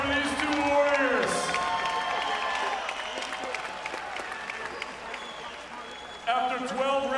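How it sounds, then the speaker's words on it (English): Arena crowd at the Fabulous Forum applauding and cheering two boxers after a twelve-round fight, a steady roar of clapping with an announcer's voice talking over it and a louder swell near the end. "Let's get a nice round of applause out here for these 2 warriors."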